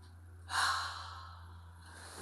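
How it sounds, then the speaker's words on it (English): A single audible exhale during a seated exercise class, a soft breathy rush lasting about a second and fading out, close and alone without talking. "Breath out."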